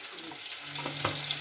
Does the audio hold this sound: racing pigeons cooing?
no